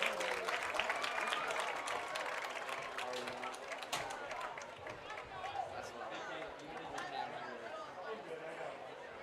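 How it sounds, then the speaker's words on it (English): A crowd at a Hector Wildcat high school football game against Perryville applauds the Perryville Mustang Band, steady clapping that slowly fades, with chatter and voices mixed in. "How about another round of applause for the Perryville Mustang Band?"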